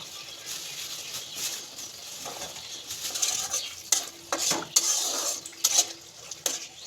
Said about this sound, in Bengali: ভালো করে কষিয়ে নেব যতক্ষণ পর্যন্ত তেল না ছাড়বে, আমি কষাতে থাকবো